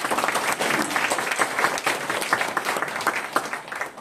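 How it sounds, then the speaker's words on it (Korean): Congregation at a church awards ceremony applauds together, a lively burst of many hands clapping with a slightly pulsing rhythm, fairly close and full, with no speech breaking through. "하나님께 우리 다 같이 박수를 한번 올려주세요."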